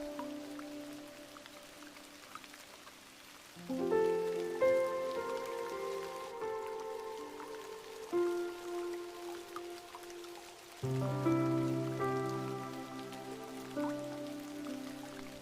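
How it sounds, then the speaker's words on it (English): Soft, steady rain at night patters as an even hiss beneath sustained, gentle musical chords that shift a few times, calm and continuous throughout. "The rain continues, soft and steady, wrapping the night in silver threads."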